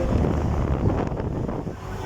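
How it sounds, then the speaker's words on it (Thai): Strong wind roaring across the microphone at an outdoor amusement park, a steady rushing blast with someone talking. "เขาลมแรงมากอ่ะดูดิค่ะทุกคน"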